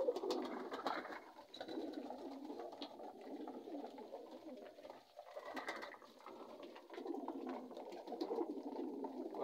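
Pigeons cooing at a pigeon farm, a steady layered murmur of soft throaty coos from several birds close by, continuous with brief dips, no talking.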